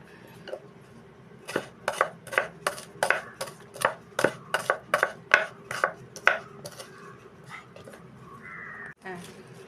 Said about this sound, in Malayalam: നമുക്കിനി സവാള അരിയാം കേട്ടോ സവാള അരിഞ്ഞ് അത് വരട്ടിയാലേ നമുക്ക് ശരിയാക്കാനൊക്കെ ഉള്ളൂ